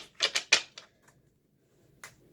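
Tarot cards being shuffled up close: a quick run of crisp papery riffles, then a pause and one faint flick, in a quiet room.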